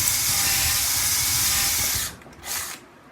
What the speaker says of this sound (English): With a 3/8 inch drill bit and a preset position for the drill stop, allows me to drill